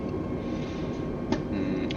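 Steady drone of an airplane engine in MS Flight Simulator, a constant broadband hum at even loudness throughout with a brief faint click partway through, no talk.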